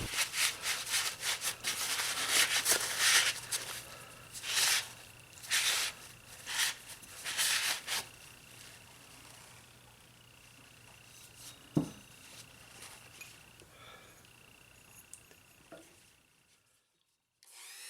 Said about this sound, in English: I sanded the damaged part until the surface was really smooth